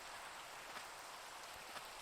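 Rain falls in the video game Minecraft as a faint, even, continuous hiss of drops with no pauses and no voices.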